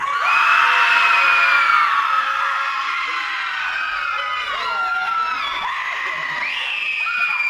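A convention panel audience lets out a loud, sustained collective scream on cue, a dense wall of many voices that peaks at the start and holds steady for several seconds.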